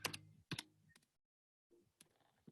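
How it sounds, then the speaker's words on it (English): Fast typing on a computer keyboard comes in quick clattering bursts of keystrokes, then a brief silence before a few more scattered taps. "Look how fast my typing is."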